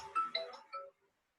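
A mobile phone ringtone chimes during a maths lesson, a short bright melodic burst lasting under a second, then silence.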